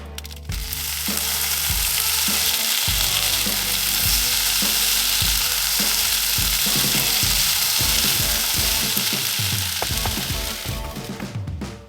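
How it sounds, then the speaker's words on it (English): Shallots fry loudly in a pan, sizzling hard and steadily at close range while being stirred, with scraping knocks throughout and no voices. "In fact, they needed to be stirred. They started to get a little bit brown."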